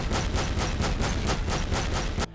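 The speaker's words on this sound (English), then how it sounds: "Oh, the sound of the cannon." The Cobra cannon, a heavy rifle in a Skyrim mod, fires a rapid burst of about ten loud, closely spaced booming shots that stop abruptly, with no talking.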